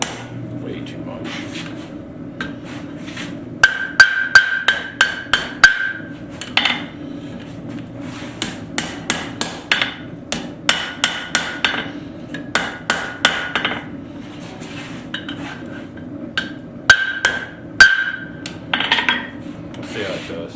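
A hammer rings against hot steel on an anvil while an offset is forged into flat stock tongs, sharp metallic strikes arriving in quick bursts separated by short pauses, close and loud.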